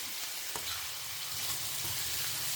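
Broad beans, tomato, carrot and capsicum fry in oil in a pan, giving a steady close sizzle throughout with a faint clink of a utensil near the start.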